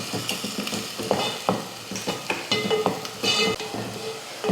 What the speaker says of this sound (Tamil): பாருங்கள் இந்த மாதிரி வெங்காயம் வதங்கணும்.